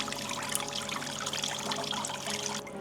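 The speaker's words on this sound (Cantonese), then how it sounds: "聽住流水聲真係好舒服，" Water pours and trickles steadily during the water-circulation stage of a head spa treatment at a Shenzhen massage shop. The close, continuous splashing stays even throughout and cuts off abruptly at the end.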